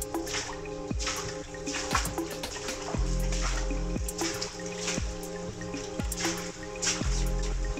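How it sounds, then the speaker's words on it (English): Water trickling and dripping into a tunnel running under the C&O Canal, with a continuous close trickle punctuated by regular, resonant drips echoing roughly once a second. "Water coming in the walls."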